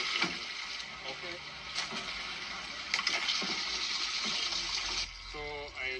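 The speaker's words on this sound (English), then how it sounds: "now I'm decanting that water" Water pours and gushes steadily as it is decanted off freshly fertilized walleye eggs during Wisconsin DNR spawning work in Marinette, with outdoor background noise throughout.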